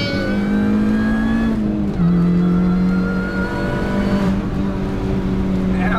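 A Mini Cooper S engine drones and revs steadily close up, its pitch shifting after a gear change, with people talking over it.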